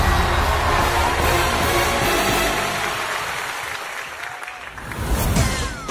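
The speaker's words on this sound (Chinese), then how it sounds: "掌声有请。" A studio audience at a televised comedy contest applauds as a comedian is welcomed on stage, a loud sustained wash of clapping that thins slightly midway, then swells again near the end.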